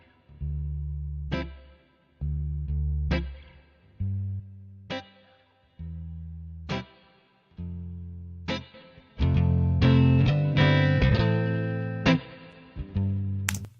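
A recorded electric guitar with reverb from the amp plays a chorus part, first as repeated chord hits that each ring out between pauses, then as a denser and louder strummed section.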